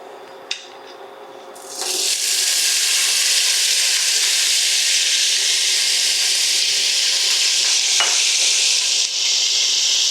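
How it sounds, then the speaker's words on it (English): Sausage hitting hot olive oil in a pan, a brief clatter followed by a loud, steady hiss of frying that continues unbroken, with a faint scrape partway through. "So now let's put in all the sausage."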